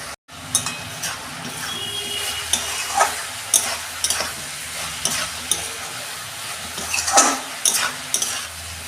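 Vegetables sautéing with cumin and coriander powder, a close crackling sizzle under repeated spoon scrapes and stirring clatter against the pan, fairly loud and continuous.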